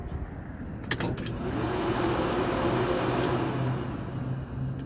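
A Polaris Pro R side-by-side with a turbo engine starts up and settles into a steady, loud idle rumble after a brief cranking burst.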